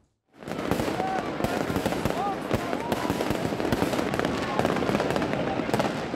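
New Year fireworks bursting around the Colosseum in Rome: a dense, continuous barrage of loud cracks and booms with crackling tails, rising suddenly from silence and filling the scene, with crowd voices mixed into the din.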